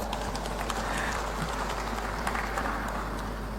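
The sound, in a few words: audience applause at a speech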